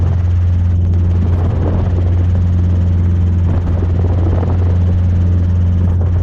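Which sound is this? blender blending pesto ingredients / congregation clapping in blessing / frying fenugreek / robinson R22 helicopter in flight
robinson R22 helicopter in flight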